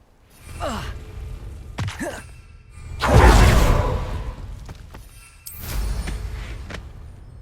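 The Incendio fire spell from the Hogwarts Legacy video game flares in a few whooshing bursts, with the biggest roaring surge in the middle, mixed with breathy, sigh-like sounds.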